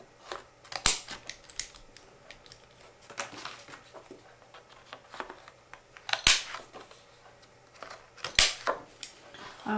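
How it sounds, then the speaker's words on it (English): A paper punch cuts through the bottom half of a red and white card, making a few sharp crisp snaps spaced several seconds apart, with light paper rustling and handling sounds in between, close up and without talk. "we're just going to punch out the bottom half of the card"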